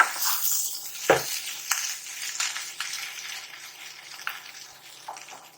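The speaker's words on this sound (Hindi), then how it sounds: "इसको अच्छी तरह से मिक्स कर लेंगे" Spiced fasting potatoes are stirred in a pan, a soft hissing sizzle with several brief scrapes and one sharper knock early on, close and moderately quiet.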